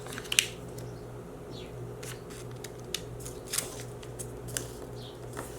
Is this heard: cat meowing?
no